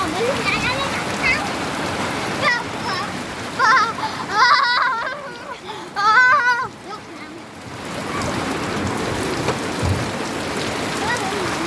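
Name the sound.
rain, people bathing in the rain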